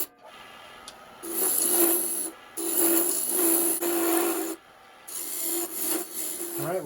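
Rasping, rubbing strokes of a tool shaving down a segmented wooden spin top, coming in several sustained bursts separated by short pauses, steady and fairly close with no talking.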